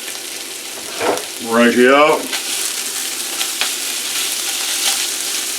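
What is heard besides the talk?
food sizzling while being stirred in a pan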